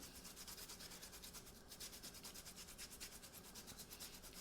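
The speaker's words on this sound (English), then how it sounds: "I'm going to grate some ginger." Fresh ginger is grated on a Japanese ceramic ginger grater, giving a quiet, close rhythmic scraping of quick even strokes that repeats steadily.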